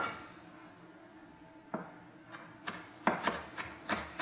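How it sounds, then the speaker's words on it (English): A knife finely chopping fresh baby dill on a board, with quiet rubbing and scraping at first, then a series of sharp close taps growing quicker and more regular toward the end, no voices. "I have some fresh baby dill, about a third a cup. So what I'm going to do is I'm just going to finely chop this."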